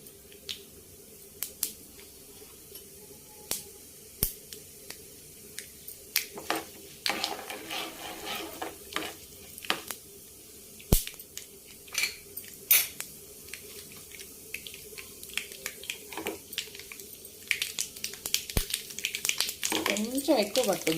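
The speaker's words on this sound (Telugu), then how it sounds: "ఆయిల్ కాగనిచ్చేసి తాలింపు గింజలు వేసుకుందాం" Mustard seeds, cumin, chana dal and urad dal tempering in hot oil: sparse, irregular pops and crackles that grow busier over time, with faint talk in the background.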